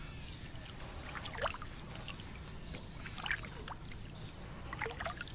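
A kayak paddles across a reservoir lake at a dam in early morning, giving soft, intermittent paddle splashes and drips. A constant high insect-like hiss runs throughout. No one speaks.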